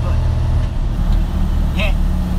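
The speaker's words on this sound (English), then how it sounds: "I have no clue if you guys can hear that engine brake or not" A truck's engine brake rumbles loud and close from inside the cab, a steady low drone with a brief hiss near the end, while a person talks over it.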